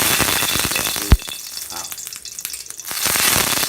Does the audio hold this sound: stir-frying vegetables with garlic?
yes